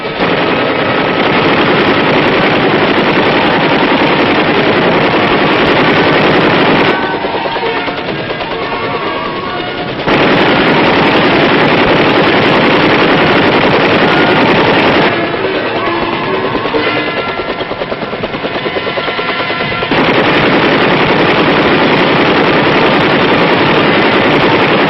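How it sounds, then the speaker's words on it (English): Sustained, dense machine gun fire from armed Huey gunship helicopters over a range, loud and continuous in long bursts with short lulls between them. "drop down over the machine gun range, moving fast and ready to shoot."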